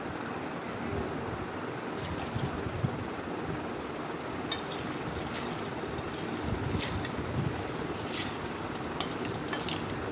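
Raw banana kofta fritters fry in hot oil in a wok, giving a continuous hissing sizzle with scattered crackles and pops, steady and close.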